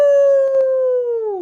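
A human voice imitating a wolf howl, one sustained, steady howl held for over a second that slides slightly downward at the end, close and clear.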